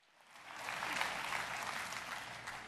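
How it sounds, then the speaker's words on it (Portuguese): A church congregation breaks into applause that swells from quiet to a steady, dense wash of many hands clapping, heard somewhat distant and fairly faint. "Aplauda a Deus pela revelação."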